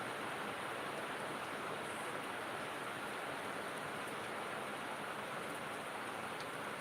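Steady rain falling outdoors, an even, dense hiss without breaks or voices, moderately loud and continuous throughout.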